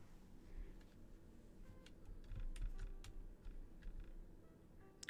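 A cat walking across a computer keyboard, scattered soft key clicks and taps, faint and irregular, in a quiet room.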